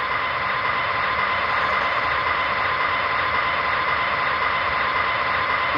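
An HO scale ES44AC model locomotive's diesel engine sound drones at a steady idle, a continuous buzzing rumble with no variation, close and fairly loud.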